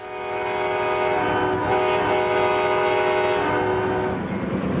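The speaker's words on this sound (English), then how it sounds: "just, you know, the head end of a speeding locomotive." Amtrak Southwest Chief locomotive speeding along the line, its horn blaring in a long sustained chord over the rumble and rattle of the train, loud and close, fading slightly at the end, with no talking.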